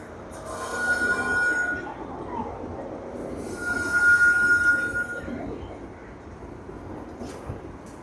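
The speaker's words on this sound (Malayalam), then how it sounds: "ഒരു ട്രെയിൻ വരുന്നുണ്ട്, നമ്മുടെ പാസഞ്ചർ ട്രെയിനാണ് വരുന്നത്." A passenger train with a WAP-4 locomotive passes close by on the Bengaluru–Kozhikode route, a sustained rumble with wheel squeal and high metallic whine swelling and fading over several seconds; faint voices are in the background.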